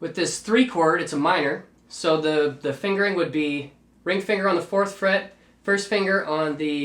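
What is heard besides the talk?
No everyday noise stands out behind the speech.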